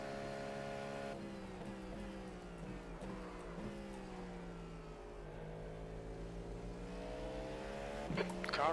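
A race car engine in the iRacing video game whines past at Daytona, its pitch sliding up and down through gear changes, with a rougher burst near the end.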